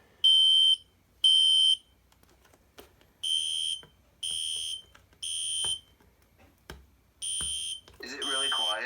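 A fire alarm sounds in short repeated bursts of a high electronic tone, fairly quiet and muffled under tape, with brief voices heard between the beeps.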